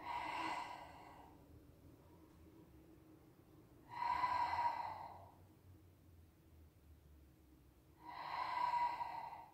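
Slow, audible breaths during a Pilates exercise, three long exhale-like breaths spaced about four seconds apart, close and fairly quiet with no talking.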